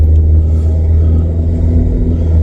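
A VW Vento pulling away after a gearbox repair, heard from inside as a loud, steady low engine rumble that rises slightly as it accelerates.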